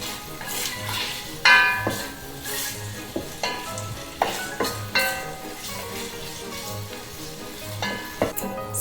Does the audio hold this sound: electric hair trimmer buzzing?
no